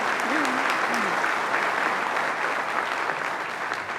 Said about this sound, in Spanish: María, un aplauso para María de los Campos que ha recibido esta